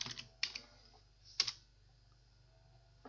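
A few sparse, light keystrokes on a computer keyboard while a command goes into a Windows command prompt, quiet clicks scattered over a soft background hum.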